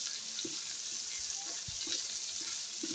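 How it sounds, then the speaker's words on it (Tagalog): Pork sautéing in hot oil in a pan, a continuous bright sizzle with soft scraping stirs at intervals, close and steady. "Gigisa na po natin dito sa pinagpirituhan natin kanina ng pork."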